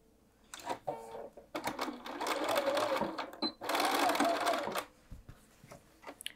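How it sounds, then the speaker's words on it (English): Close and fairly loud, a sewing machine edge-stitches a quilted jacket sleeve in two sustained runs of rapid whirring. Light handling clicks come between the runs. "we'll head over to our machine and we're going to stitch it in place from the front"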